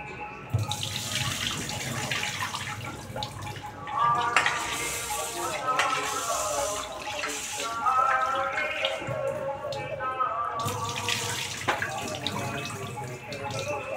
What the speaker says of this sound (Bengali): চালটা ধুয়ে দিচ্ছি, ভাতটা বসিয়ে দিয়ে মুড়িটা খাবো।